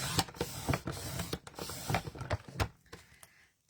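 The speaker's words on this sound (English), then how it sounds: "I am using this trimmer with photos" A paper trimmer slices photos down to size, a quick run of faint sliding, clicking strokes in an irregular rhythm, heard close and alone.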